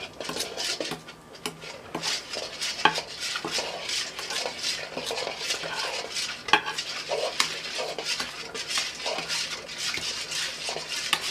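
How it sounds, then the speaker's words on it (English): Egg being beaten in a bowl with a utensil, a fast, steady run of clicking, scraping strokes that repeats rhythmically and stays close. "so I need to beat up my egg and give it"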